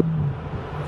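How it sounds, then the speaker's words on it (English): A supercharged Hellcat engine revs hard while drifting on a skid pad, producing a steady, loud, close whine and roar with no one talking. "I love the sound of the supercharger"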